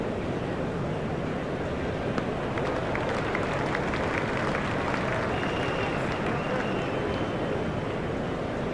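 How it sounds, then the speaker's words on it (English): Crowd applause in an IPL cricket video game, a dense, steady roar of clapping and cheering that stays constant and loud throughout, with commentary faintly mixed in. "He deserves the applause from the crowd today"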